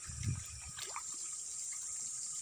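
Water pumped by a motor runs through a newly built home water supply setup as a faint, steady rushing flow, with one brief low thump near the start.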